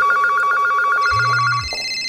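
Telephone ringing in a rapid electronic warble, close and loud, a repeated trill that cuts off after a couple of seconds.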